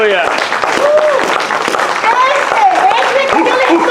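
Church congregation clapping and cheering together in a sustained burst, mixed with voices calling out over the applause.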